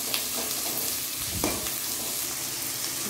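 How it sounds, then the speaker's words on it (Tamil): Curry leaves and onion sauté in a pan for lemon rice, making a soft, continuous sizzle with occasional stirring scrapes at low volume. "இப்போது தேவையான கறிவேப்பிலை போட்டுக்கோங்க. போட்டு நல்லா வதக்கி விட்டுக்கோங்க."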